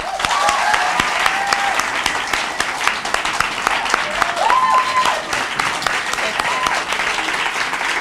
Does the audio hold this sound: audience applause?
yes